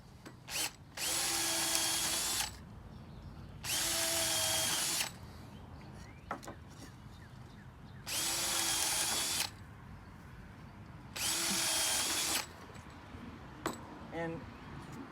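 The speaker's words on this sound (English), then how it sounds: "I'm going to drill some holes, 4 holes on the floor piece as well." A power drill bores holes in birdhouse wood, floor piece included, in four loud separate bursts of about one and a half seconds each, with quiet handling noise between them.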